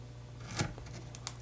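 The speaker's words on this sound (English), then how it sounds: "it cuts easily with the scissors" Scissors snip through foam tape from a large roll while making holiday cards: one quiet close cut with a soft rasp, then a couple of small clicks, all fairly faint.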